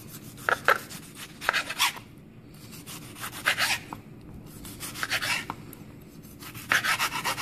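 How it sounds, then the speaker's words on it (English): A knife chops tomatoes into cubes on a board, making a series of soft rasping cuts and taps in irregular bursts, close and fairly quiet. "So we finished chopping up these tomatoes"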